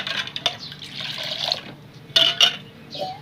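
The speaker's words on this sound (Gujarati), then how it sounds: "એક ચમચી આપણે આમાં ધાણા જીરું નાખીએ અને આમ હલાઈ નાખીએ પાણીને" Spiced water for pani puri, with coriander-cumin powder added, is stirred in a vessel: a steady wet swirling and sloshing with a couple of sharper spoon clinks near the end.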